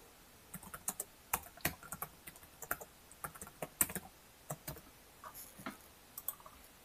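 Rapid typing on a computer keyboard while editing an email client template, with irregular bursts of close, crisp key clicks and short pauses between keystrokes.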